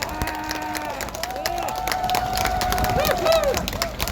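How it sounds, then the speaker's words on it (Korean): A crowd applauds for medical workers and volunteers, with steady clapping at moderate loudness, cheering voices rising over it and building toward the end. "여러분 우리 의료인들 또 봉사하는 모든 분들 위해서 박수 한번 보내주시기 바랍니다."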